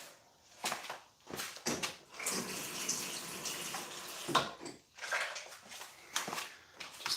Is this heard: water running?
yes